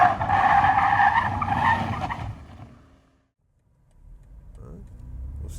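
A 2021 BMW M135i braking hard with its tires squealing, a loud, rough rush of road and tire noise that fades to near silence, then a low rumble as it picks up again.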